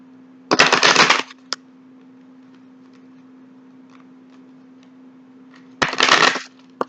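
Two quick, close riffle shuffles of a Celtic tarot deck, each a dense papery burst under a second long, separated by a quiet stretch over a faint steady hum.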